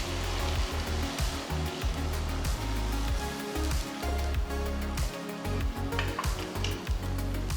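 Ground masala paste with shahi jeera cooking in a pan for an egg malai curry, giving a steady, loud sizzling hiss with stirring scrapes throughout, no talk.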